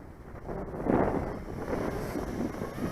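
Steady wind roars across an outdoor microphone while a KingKong 110GT 117mm mini FPV racing drone flies on a 2S battery, the gusts swelling around one second and then holding as a constant rush.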